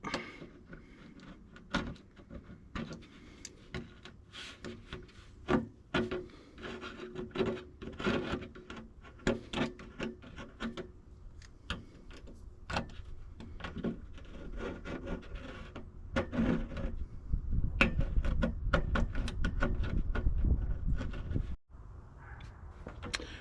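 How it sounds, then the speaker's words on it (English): A box cutter trims material during a Tiffin Wayfarer RV modification, giving close scraping and slicing strokes with knocks and rubbing, ending in a denser stretch of cutting noise before a brief pause. "the box cutter did fine to trim that up"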